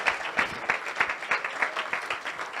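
A church congregation applauding during a Spanish-language sermon: steady, dense clapping from many hands at moderate volume, carrying on without a break.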